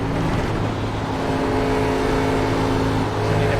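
Race car engine in the iRacing sim, held at a steady, loud, sustained drone with constant tonal harmonics, revving under throttle with no talk over it.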